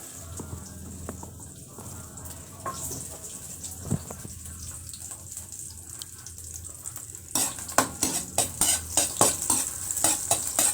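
Garlic sizzles in a pan while being stirred for fried rice, first a low steady fry with scattered utensil clinks, then a louder burst of crackling sizzle with rhythmic stirring scrapes toward the end, heard close and without talking.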